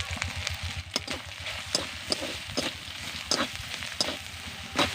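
Ginger and garlic frying in a pan with turmeric, chilli powder and salt, a close steady sizzle broken by sharp, regularly spaced scraping and stirring taps.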